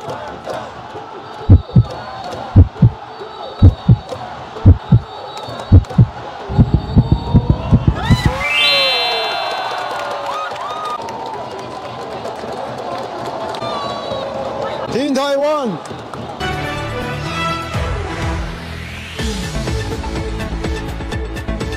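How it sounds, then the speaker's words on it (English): Fans in the Taipei Dome cheering for the Taiwan team at the Asian Baseball Championship: rhythmic thundering drum beats, then a loud roaring crowd with whistles and chanting, and a commentator's voice over the noise. "Now all the fans are cheering for Taiwan team."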